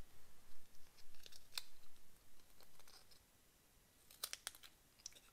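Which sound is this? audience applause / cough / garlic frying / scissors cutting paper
scissors cutting paper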